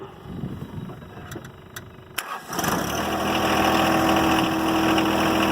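A John Deere 1025R compact tractor, bucket raised, cranks over with a short starter whir, then its engine catches and settles into a steady, fairly loud idle after a few clicks and rustles.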